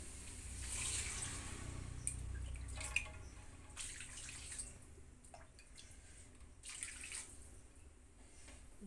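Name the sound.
water poured into cooking pot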